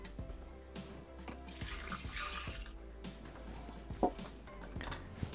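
Hot water pours into a Thermomix bowl holding tomato pulp, salt and pepper, a soft, steady liquid rush with a low appliance hum and a brief knock near the end.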